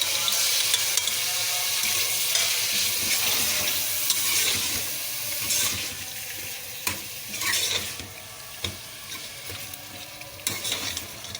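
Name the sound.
meat (gosht) frying in a pan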